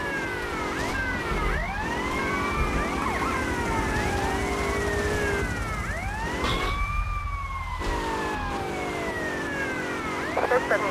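A police car siren from the video game GTA Vice City Stories wails loudly and continuously, its rising and falling sweeps overlapping with another siren over a steady engine drone.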